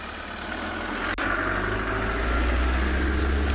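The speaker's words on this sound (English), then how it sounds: "You'll be able to hear my heater when I turn the car on." A safari vehicle's engine idles steadily at close range during a sunset game drive, a low continuous rumble with a faint heater fan hiss layered on top and no break in the sound.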